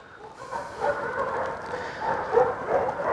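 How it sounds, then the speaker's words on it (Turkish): Dogs meeting one another as a second dog joins the group, with soft yips, whimpers and muffled barks at close range over a continuous rustling background; no speech. "Tanışıyorlar şu anda köpekler birbirleriyle."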